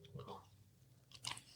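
A crunchy stroopwafel is bitten and chewed up close, with a couple of quiet crisp crunches and a louder crackly bite near the end, faint and brief.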